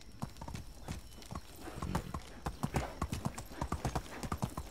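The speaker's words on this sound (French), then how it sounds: "on va reprendre notre ami Canasson, tagada, tagada, et on est reparti" Steady clip-clop of horse hooves at a quick gallop rhythm in the video game Medieval Dynasty, close and continuous, with faint talking mixed in.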